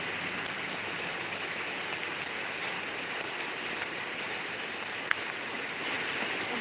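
Heavy rain pours down in a steady, dense hiss that holds unchanged throughout, with no voices and only a faint tick or two.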